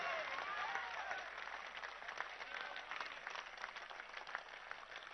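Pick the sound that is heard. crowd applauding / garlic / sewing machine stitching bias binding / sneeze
crowd applauding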